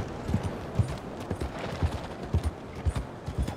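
Horse hooves clip-clopping during a ride in the video game Red Dead Redemption 2, a steady, rhythmic trot of soft thuds at moderate distance over faint background ambience.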